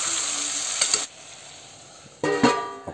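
Meat and potato curry cooking on a low flame, a close, loud sizzle that fades to a quiet simmer for about a second before a louder burst of sizzling and stirring returns, with no talk.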